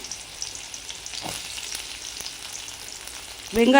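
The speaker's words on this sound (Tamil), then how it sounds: "எண்ணெய் சூடானதும் இதில் கடுகு போட போகிறோம்." Mustard seeds and onions frying in hot oil for tomato chutney give a steady, moderate sizzle throughout, with a brief metallic clink near the end and no talk.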